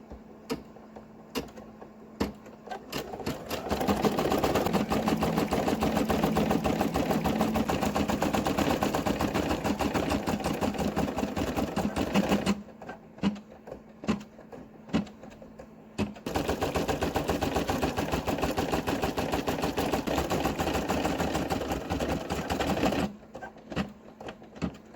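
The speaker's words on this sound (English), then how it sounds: "We're going to do the satin stitch around all 4 bunnies." Brother PE800 embroidery machine sewing a satin stitch outline around bunny designs, a steady fast rattling needle chatter running loud and continuous, with two short pauses of scattered clicks.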